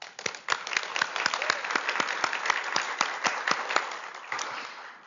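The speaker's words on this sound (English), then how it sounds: "join me in giving our sponsors and event partner a round of applause" A crowd of people clapping together in sustained applause, a steady patter of many hands that rises then tapers off slightly at the end.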